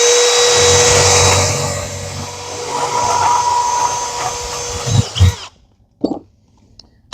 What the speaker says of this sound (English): we can drill a hole right here